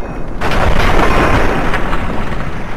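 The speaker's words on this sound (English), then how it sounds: "Head exploded" Loud shot and explosive burst in Fallout 3 as a head is blown apart, a sudden heavy boom followed by a sustained roaring crackle that stays strong throughout.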